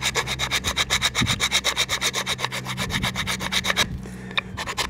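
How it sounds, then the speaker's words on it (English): A rasp files a wooden AK rifle stock in quick, rhythmic strokes, about a dozen close scraping passes, a brief pause, then a few more. "this one's gonna need a bit more work in terms of using the rasp"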